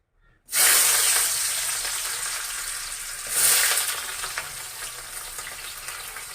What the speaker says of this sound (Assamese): এতিয়া একেখিনি তেলতে মই পিঁয়াজ দি দিছোঁ।